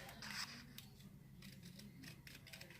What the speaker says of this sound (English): And if you know what I mean about fussy cut, we're just going to cut along